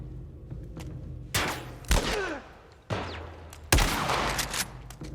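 Gunfire in The Last of Us Part 1 during a hydroelectric station fight: several loud, sharp shots and bursts spaced a second or so apart, each with a ringing tail over steady game ambience.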